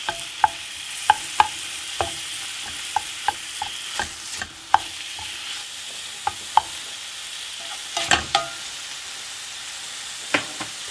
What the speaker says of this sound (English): I'm just going to let that fry off now